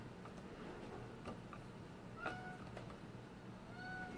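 A cat meows faintly a couple of times over a low background hum, with light scattered ticks and taps nearby.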